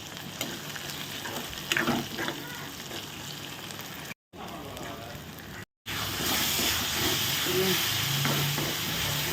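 Onions and tomatoes sauté in a pan for a dried anchovy curry, making a steady frying hiss with occasional stirring noises, broken by two brief silent gaps.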